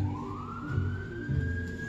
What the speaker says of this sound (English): Thank you, local siren.